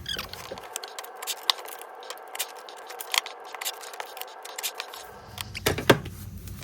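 Scissors snipping through a paper-pieced fabric block along the final trim line, a run of quick, close, crisp cuts with light scraping, growing louder near the end.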